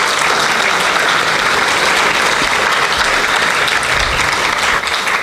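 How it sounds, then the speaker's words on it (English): Audience at a Bhagavatham Sapthaham religious discourse bursting into loud, sustained applause, a dense wash of clapping from many hands that holds steady throughout with no talk. "Give him a very big applause."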